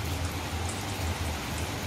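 Heavy afternoon rain pours steadily at a work site in Kuwait, a dense, even hiss of drops on surfaces with no break.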